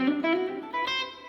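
Electric guitar picking out a scale note by note, each tone sustained with a slightly distorted tone, played alone and fairly close.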